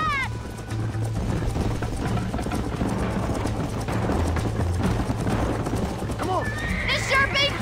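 A horse in the Red Dead Redemption video game whinnies loudly while its hooves clip-clop steadily beneath, and someone talks over the sounds; a second short whinny rises near the end.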